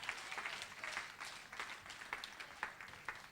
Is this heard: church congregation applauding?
yes